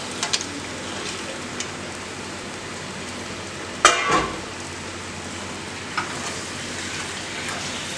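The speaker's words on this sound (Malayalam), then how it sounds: "ഇനി നമുക്ക് ബീഫ് ഇട്ട് കൊടുക്കാം." About 1.5 kg of beef dropped into a hot spicy masala for beef curry, a sudden burst of sizzling with a spoon clank, then a quieter crackle and occasional stirring taps.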